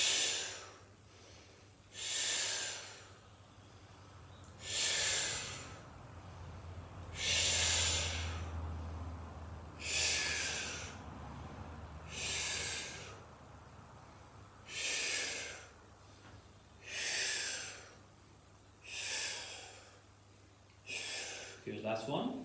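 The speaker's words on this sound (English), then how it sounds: "Breathe in deeply, exhale, rise." Deep rhythmic breaths during a Pilates hip exercise, about ten strong airy exhales spaced roughly every two to two and a half seconds, close and clear over a faint low hum.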